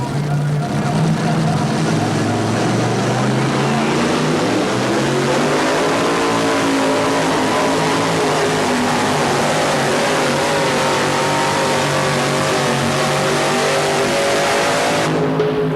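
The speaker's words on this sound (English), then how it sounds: "These sleek pulling trucks have really got the fans turned on." A Ford pulling truck's engine roars at full throttle while dragging a sled at a truck and tractor pull event, pitch climbing and holding under strain, loud and continuous; an announcer's voice sits beneath the engine.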